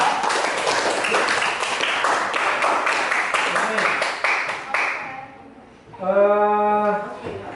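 Students in a classroom lesson clap together in a dense, steady burst that fades out, followed by a short spoken voice.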